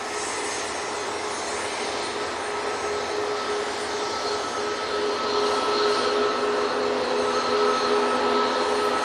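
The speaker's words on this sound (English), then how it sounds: "This is FlexJet, Embraer Praetor 600" A FlexJet Embraer Praetor 600 business jet at Manchester Airport gives off a steady, whining jet-engine roar that swells slightly louder toward the end, heard from some distance outdoors.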